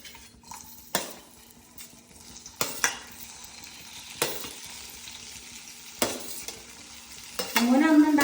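Gooseberries being stirred and fried in sesame oil: a soft sizzle runs underneath while a utensil knocks sharply against the pan every second or so, with a louder sizzle surging at the end.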